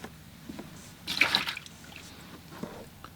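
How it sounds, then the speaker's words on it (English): Dirty watercolor rinse water is poured out and the jar refilled, a short splashing gush of liquid in the middle, then quiet with faint trickles and soft handling noises. "Maybe I'll empty my water."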